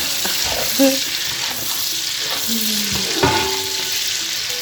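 Steady sizzling of onions frying in a pan for Cameroonian-style stir-fried amaranth, with occasional stirring clinks and scrapes, close up and continuous, no talking.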